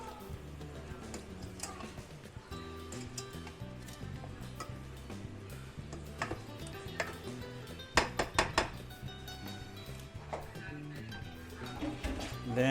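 Chicken adobo ingredients and a tablespoon of sugar being stirred in a pan, with light clinks and scrapes of a utensil against the cookware over a steady background bed, a few sharper taps near the end.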